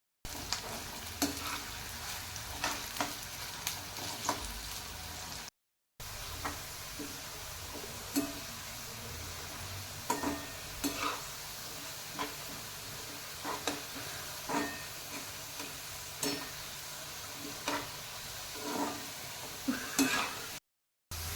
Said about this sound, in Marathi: कांदा आपल्याला गोल्डन ब्राउन होईपर्यंत परतायचा आहे।